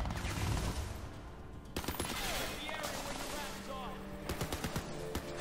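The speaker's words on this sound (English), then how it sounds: "That's a sentry gun." Sentry gun in the video game Crysis 2 firing repeated rapid bursts of automatic gunfire, loud and close, mixed with other game sounds throughout.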